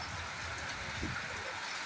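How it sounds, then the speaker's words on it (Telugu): Steady rain with gusty wind in Pulicherla mandal pours down in a dense, continuous hiss, with a low rumble of wind underneath. "ఈదురు గాలులు వేస్తూ వర్షం కురుస్తున్న దృశ్యాలు ఇప్పుడు మనం చూస్తున్నాం"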